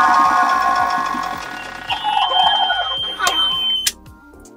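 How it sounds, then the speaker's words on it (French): A Kelt 7.60 sailboat engine runs with a steady mechanical whine and rhythmic thumping. Near the end, its raw-water intake hose loses prime, and a few short sputtering, sucking bursts break through. No one speaks. "le petit bruit que vous avez entendu à la fin, c'est le tuyau d'aspiration d'eau qui se désamorçait"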